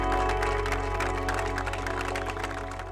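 Applause for a guest at a school event in a drama scene: a dense, steady wash of clapping from a crowd, loud and continuous throughout, fading slightly toward the end.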